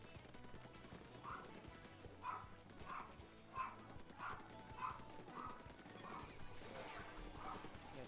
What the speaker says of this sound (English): don't mind the barking in the background.